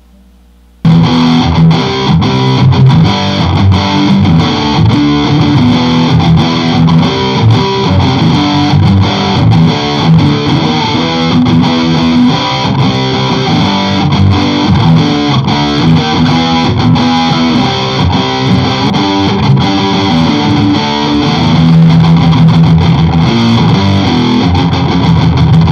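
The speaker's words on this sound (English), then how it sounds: "that needed a little distortion, so I kicked it into the lead channel on this Orange Rocker 30." Heavily distorted electric guitar, a 1996 Gibson SG Standard through the lead channel of an Orange Rocker 30 amp, played continuously and loud, thick overdriven chords and riffs ringing with amp crunch throughout, no voices.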